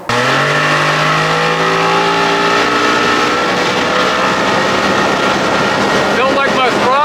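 A Johnson 60 hp outboard engine revs hard and loudly, its pitch climbing then holding at a sustained roar, with someone speaking briefly near the end.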